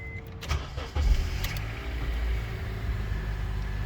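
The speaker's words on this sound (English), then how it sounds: "We're going to go ahead and start the vehicle." A car engine cranks and catches about a second in, then keeps running at a steady, fairly loud idle. No one speaks.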